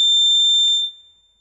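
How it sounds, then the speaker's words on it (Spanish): Buzzer on an IoT device sounds a shrill, steady electronic tone when a notification arrives, loud and close, holding for most of a second before cutting off, with no talk. "Está sonando el zumbador, ¿no?"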